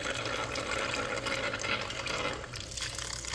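Cold water drawn through a coffee chiller holding a cup of hot coffee, a steady, close rushing and gurgling flow of liquid that continues throughout with a slight dip near the end.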